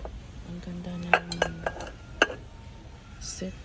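Plates from a dish set clink and knock together close by in a few sharp, ringing taps, then go quiet as a faint voice is heard in the background.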